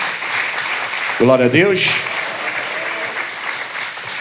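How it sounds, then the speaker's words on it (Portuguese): A church congregation claps steadily in a continuous wash of applause, and a voice rises briefly over it partway through. "pode aplaudir o Senhor."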